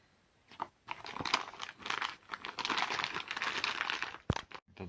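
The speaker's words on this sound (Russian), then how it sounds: "Этот пакетик открыли." A small plastic packet is crinkled and torn open close up in a quiet room, producing a burst of rustling and crackling that ends in a sharp snap.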